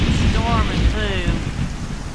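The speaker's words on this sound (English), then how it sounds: "Oh boy, it's a raining." Steady heavy rain of a thunderstorm in Skyrim pours throughout, with a low rumble of thunder beneath the dense hiss and faint, brief voice-like tones above.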